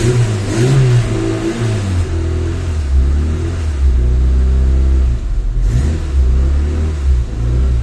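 A car engine revs up and down as the gas pedal is pressed and eased, a loud, close, low rumble rising and falling in repeated surges with no talk.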